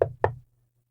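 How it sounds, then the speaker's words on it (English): Two firm knocks on an apartment door land in quick succession, close and distinct, followed by silence. "Not knowing what else to do when I reach the door,"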